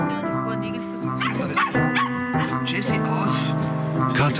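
A dog yips and whimpers on a family home terrace, short high barks scattered among steady music and overlapping talk, the dog sounds close and intermittent throughout.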